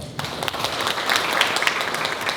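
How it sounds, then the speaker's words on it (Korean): A crowd breaks into warm applause, many hands clapping in a dense, steady patter that swells slightly and holds for a couple of seconds. "인사 말씀해 주신 김용진 관장님에게 다시 한번 따뜻한 박수 부탁드립니다."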